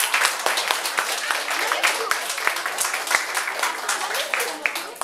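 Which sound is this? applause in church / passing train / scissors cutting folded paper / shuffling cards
applause in church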